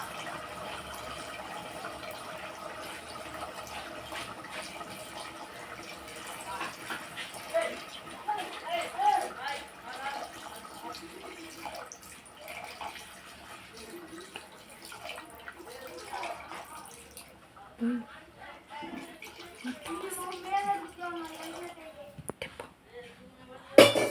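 Water splashes and trickles into a pot of bubbling gravy, with clattering utensils and a voice talking over the cooking sounds.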